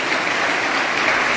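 Students at a school farewell celebration clap in dense, steady applause that fills the whole moment without pause, with no talk over it.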